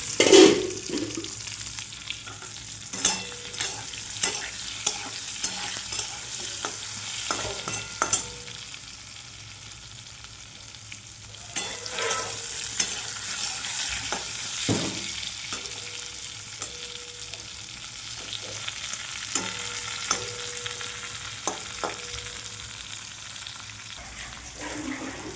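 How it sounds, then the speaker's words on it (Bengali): Pointed gourd (potol) frying in oil in a covered pan, giving a steady low sizzle with occasional light stirring clinks and scrapes throughout, fairly quiet and close. "দেখুন, পটলটাও চাপা দিয়ে ভাজছি"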